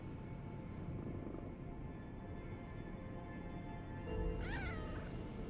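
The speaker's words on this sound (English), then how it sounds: "That cat must love us." A cat meows in the video game Lies of P, one clear rising meow near the end over a steady ambient game soundscape and background music.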